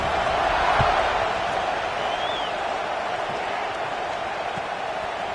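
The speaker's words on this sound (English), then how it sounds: "this crowd is buzzing after that last score" Steady roar of a large football stadium crowd at an Indiana at Nebraska game, buzzing after a score; a dense, continuous wash of many voices, loud and unbroken, with no single speaker standing out.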